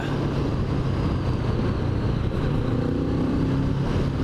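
A Kawasaki Z650RS motorcycle engine holds a high rev around 5,500 RPM, producing a continuous, loud, buzzing drone with steady vibration, close up and without talking.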